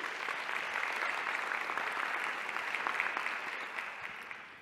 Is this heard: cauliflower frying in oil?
no